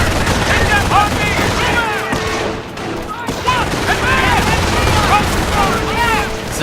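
Sniper rifle fire amid a World War II battle in the strategy game Company of Heroes, set in Normandy at Carentan: sharp scattered shots within dense, continuous combat noise, overlaid by shouting in-game voices.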